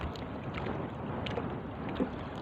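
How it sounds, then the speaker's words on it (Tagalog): Steady wind rushes in gusts across an open microphone on the water aboard a fishing boat, with a slight surge near the end and no voices. "gawa ng itong hangin pa bugso-bugso ang lakas"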